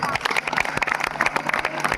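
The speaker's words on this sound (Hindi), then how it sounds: "तो आप अपने इस आयोजन के लिए एक बार स्वयं के लिए ताली बजा लीजिए।" An audience at a kavi sammelan poetry gathering in Gotatola bursts into loud, dense clapping, many hands beating close and fast, with voices mixed in among the applause.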